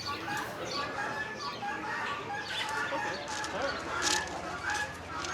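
Chickens cluck and a rooster crows among caged birds at a flea market, fairly close, with repeated clucks under quiet nearby talk and background market noise.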